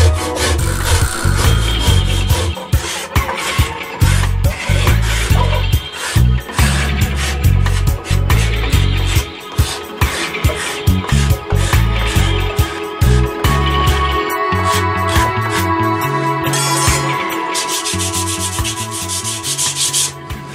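A rasp hand-shapes the heel of a reclaimed mahogany neck for a Les Paul Junior style guitar, giving continuous loud rhythmic scraping strokes, close up and steady throughout with no talking.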